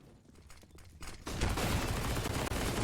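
SMG gunfire in CS:GO: faint scattered shots build into a loud, sustained rapid burst that fills the second half.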